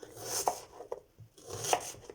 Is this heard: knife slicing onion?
yes